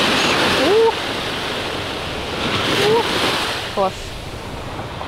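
Sea waves wash onto a shore in a steady, loud roar, mixed with wind rumble on the microphone, while a voice briefly speaks over it.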